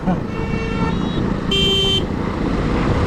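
Road traffic on the Mumbai-Goa highway, with a constant close engine and tyre rumble, several short car horn toots and a longer blaring horn blast midway, all at high volume.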